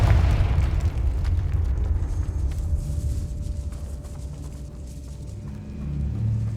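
The Confringo fire spell exploding in the game Hogwarts Legacy inside a decayed catacomb, a loud deep boom that rumbles and slowly fades over several seconds, with no voices.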